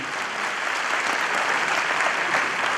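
Strong applause from the audience at a Sai devotional bhajan event honouring Manhar Udhas, a thick, continuous roar of clapping that stays loud and even from start to finish, with no voices over it.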